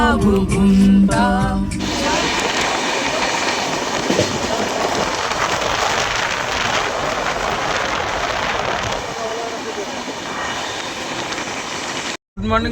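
The 13037 Kumbh Express from Howrah to Haridwar runs near Lucknow with a loud, continuous rumble and rushing hiss from inside the carriage, a steady clatter that carries on throughout after a brief musical opening.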